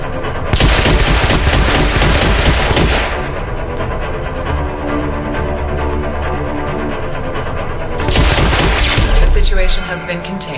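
Enemy gunfire in the video game Hitman: Absolution, loud bursts of rapid shots at the start and again near the end with a quieter droning stretch between, and talk underneath.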